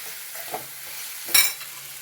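Ivy gourd fry sizzling in a pan, a low steady hiss with a soft stir and one brief louder scrape of the utensil.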